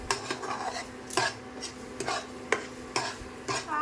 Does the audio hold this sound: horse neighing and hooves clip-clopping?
no